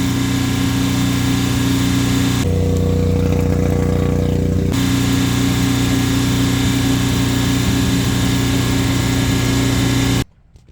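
A Kohler marine generator on a Boston Whaler runs loud and steady with a droning mechanical hum, briefly changing pitch partway through before settling back, then cutting off abruptly at the end.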